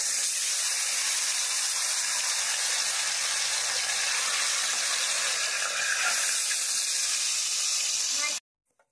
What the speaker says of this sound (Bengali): এখন আমি ভেজে নেব মাছটাকে।